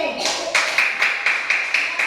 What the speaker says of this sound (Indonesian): Oke, tepuk tangan sekali lagi untuk kelompok C.